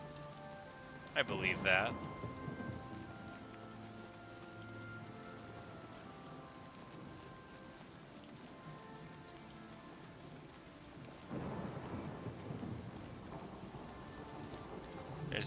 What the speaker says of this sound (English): Sure, sometimes you get rained on, but it rains on the good and the bad equally.